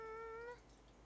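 A black Bombay cat gives one drawn-out, tonal meow that rises and holds for about half a second, close and clear, then fades to quiet room hiss.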